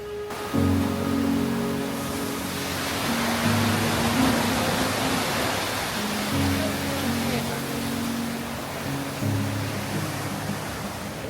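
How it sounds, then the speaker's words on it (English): Salto Adón at Iguazu Falls roars as a broad, steady waterfall rush that fills the whole scene, while a person talks over it intermittently. "So when you're looking at the waterfall from this side, this is Salto Adón."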